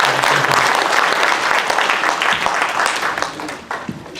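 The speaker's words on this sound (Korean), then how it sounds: "오늘 전도폭발 우리 시범조에게 우리 다시 한번 박수" A church seminar audience gives the evangelism demonstration team a round of applause, dense clapping from many hands filling the room, then thinning out near the end.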